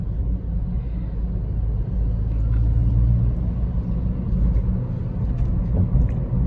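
A Ford Freestyle with a left-side pulling problem accelerating on the road, heard from inside as a steady low engine and road rumble that swells slightly, with no talking over it.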